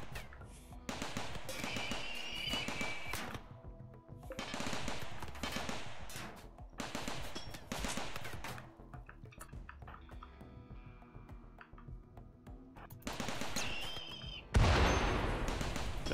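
Gunfire in the colony sim RimWorld, clusters of sharp rapid shots arriving in separated bursts with quieter gaps between, fairly faint overall, ending in a louder noisy burst.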